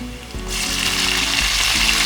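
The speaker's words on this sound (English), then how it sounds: "Now we will add our tomatoes" Tomatoes drop into a hot pan for a mustard-leaf curry: a quiet start, then a loud, close, steady sizzle with a few soft stirring bumps underneath.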